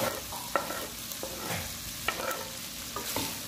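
Onion and garlic frying in a pan for feijão tropeiro, a soft steady sizzle punctuated by several sharp scrapes and taps of a utensil stirring, fairly quiet and close.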